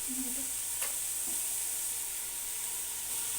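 Biryani sizzles and fries in a pan after yogurt is added, with a steady hiss under a few brief scraping stirs near the start.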